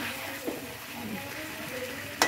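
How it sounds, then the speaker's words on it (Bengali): Chicken being sautéed and stirred in a kadai, a steady soft sizzle of frying with occasional scraping stirs and a sharper clink of utensil against the pan near the end, close by and without talk. "তো এইভাবে কড়াইতে ভালোভাবে কষিয়ে নিয়েছি"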